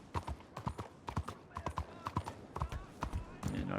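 Horse hooves clip-clop at a steady walking rhythm in a Western roleplay video game, with sharp close hoofbeats repeating evenly throughout and a brief rumble at the end.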